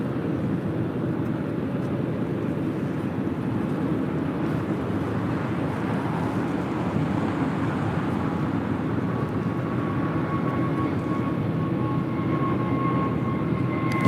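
A Boeing 787 Dreamliner at LAX produces a distant, steady jet rumble that holds evenly, with a faint tonal whine emerging toward the end.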